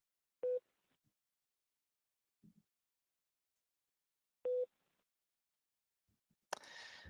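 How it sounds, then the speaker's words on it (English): Two short, steady electronic beeps sound about four seconds apart in near silence in a courtroom in Dedham, followed by a brief burst of hissy noise. "I don't know if they've replaced it with this beeping, but it is rather annoying"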